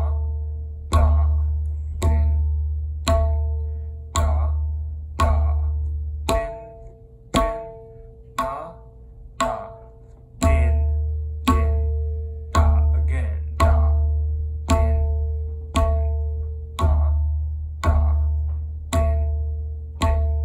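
Tabla plays a variation of the Teen Taal theka, evenly spaced sharp strokes with resonant bass bayan booms, a steady looping cycle where the bass drops out for a few beats mid-phrase before returning, close and clear with no talk.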